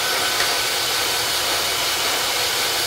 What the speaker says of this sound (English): and then you're gonna blow dry it up